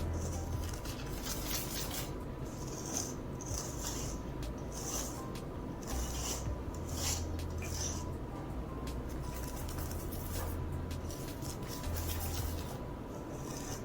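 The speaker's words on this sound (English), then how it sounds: "Then you want to mix it all together." Strawberry chiffon cake batter is stirred and scraped in a bowl, with soft repeated rubbing and scraping strokes and occasional light clinks, steady and close, under a faint background hum.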